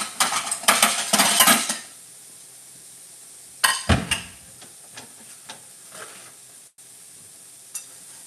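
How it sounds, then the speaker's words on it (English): Plate and cutlery handled in a kitchen where crackling bread is frying: bursts of clinking metal and ceramic, a sharp clatter, then scattered lighter taps over quiet. "Let me get a plate."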